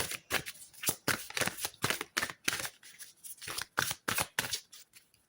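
A deck of tarot-style cards being cut and shuffled, a rapid series of crisp, close riffling snaps and slaps in irregular bursts, with no voice over them.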